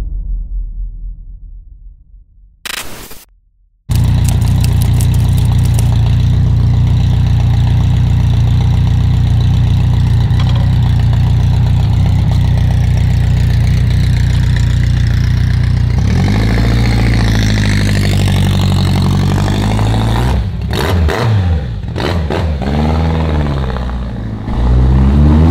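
A BMW K100 motorcycle engine starts after a brief rumble and cutout, then idles loud and close with a deep steady drone before several revs swell and fall off toward the end.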